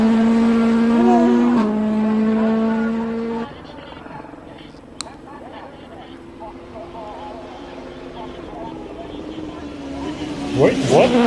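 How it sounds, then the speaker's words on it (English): Race car at the Simola Hillclimb holding its engine at a high steady pitch on launch control, then launching and fading to a lower, distant drone with crowd and commentary noise beneath. "sound of the launch control there"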